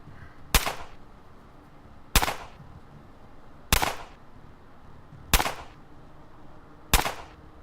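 Five evenly spaced, sharp gunshots ring out in the Underrail video game, each a loud crack with a short echoing tail over a quiet background.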